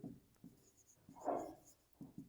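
Faint scratching of handwriting during a math lesson, short strokes of pen or chalk coming in a few separate bursts, with one longer stroke in the middle.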